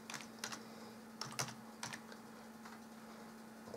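Keys on a computer keyboard are typed in a few quick bursts separated by short pauses, close and quiet over a faint steady hum, with no talking.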